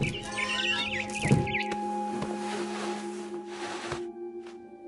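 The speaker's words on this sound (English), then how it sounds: "Then I heard chirping outside my window. It was a barn swallow going back to her nest." Barn swallow chirping outside a window in a video game, bright twittering calls near the start over steady tonal game ambience, followed by a few fainter chirps.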